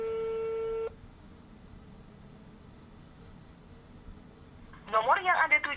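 Telephone call to a foundation that goes unanswered: a steady tone cuts off after about a second, followed by quiet line hiss, then a recorded voice begins speaking near the end.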